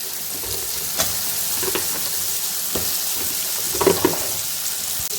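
Chopped vegetables for brinjal and drumstick sambar go into a pan of softened tomatoes, making a steady moderate sizzle that a spoon breaks with occasional scrapes and knocks, close and free of speech.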